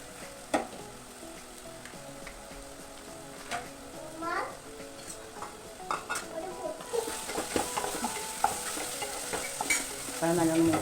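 Banana pieces fry in ghee under a soft, steady sizzle, with frequent scraping stirs and light clinks of a spoon against the pan and a faint voice in the background.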